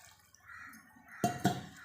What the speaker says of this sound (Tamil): இப்போ இந்த சிக்கன் முழுகிற அளவுக்கு நம்ம கொஞ்சமாக தண்ணி ஊற்றிக்கலாம்.